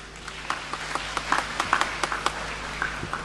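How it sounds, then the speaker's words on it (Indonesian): An audience at a university alumni event gives scattered light applause, with sharp individual claps in an irregular patter that stays moderately faint over a low room hum. "Tepuk tangan buat UNRI."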